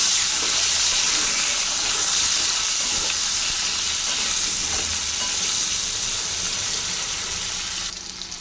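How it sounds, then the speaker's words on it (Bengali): Potatoes fry in hot oil in a pan for a curry with pointed gourd, giving a steady, close, loud sizzle that runs unbroken with no talking, easing slightly at the very end. "এবার দিয়ে দিচ্ছি আলু আলুটাও লাল করে ভেজে নেব"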